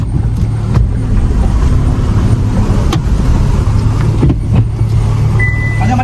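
A car reverses out of a family house, its engine a low, steady hum close by with faint scrapes and clicks, and a short high beep near the end.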